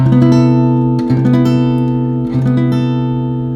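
A harmonized major 7 add 13 chord on guitar, with the fifth omitted, rings out as one sustained, clean strum that fades slowly, with slight re-attacks near one and two-and-a-half seconds. No voices are heard.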